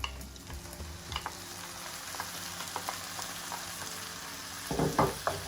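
Tomatoes go into a pan of soft, lightly golden onions for a chickpea and spinach curry, giving a steady close sizzle with faint stirring that swells into a louder, crackling burst near the end.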